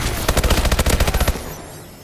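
Rapid automatic gunfire in the video game Call of Duty: Advanced Warfare, a dense, loud burst of shots lasting over a second before cutting off into quiet.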